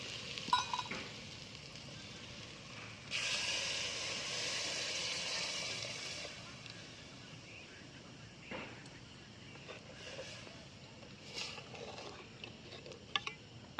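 Lentil stock poured into a sizzling sautéed mixture in a pan for amti, a burst of splashing liquid and hiss rising over background frying with occasional clinks of a utensil.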